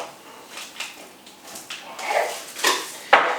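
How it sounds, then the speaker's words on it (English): A knife chops sticks of butter into small cubes on a board for whole wheat buttermilk biscuits, giving a series of close, sharp knocks and scrapes that grow louder toward the end. "I'm going to push it over and cut it into little cubes"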